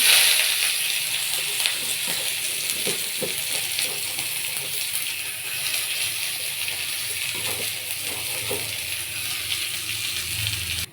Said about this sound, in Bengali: কড়াই অল্প পরিমাণে সর্ষের তেল দিয়ে দিয়েছি, তেলটা গরম হয়ে গেছে। একটু পেঁয়াজ কুচি দিয়ে দেবো।